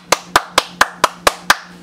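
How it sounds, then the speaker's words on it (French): Seven sharp, evenly spaced claps ring out close and loud in a quick steady rhythm, with no voices. "On l'applaudit."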